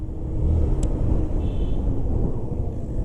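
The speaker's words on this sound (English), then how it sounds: "Well, that's Bangalore traffic for you." Bangalore road traffic passes by a rider on a 150cc motorcycle, a loud continuous engine and road rumble with steady wind noise and a brief higher engine whine partway through, with no talking.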